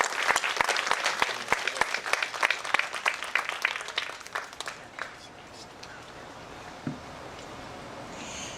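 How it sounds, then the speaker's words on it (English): Applause for the president and governor in the West Virginia House of Delegates chamber, a dense burst of clapping that thins out and fades over several seconds, with voices murmuring underneath. "Give him and the governor a big round of applause."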